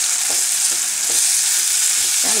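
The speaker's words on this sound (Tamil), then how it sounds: "பொரிஞ்சப்புறம் நம்ம வந்து இந்த மாங்காய் மாங்காவை தெளி வச்சுருக்கோம் இல்லையா அதை போட்டுருவோம்" Pieces of raw mango, cut for a sweet pickle, sizzle in tempered oil, a steady bright crackle with a few soft stirring scrapes spaced through it, close and fairly loud.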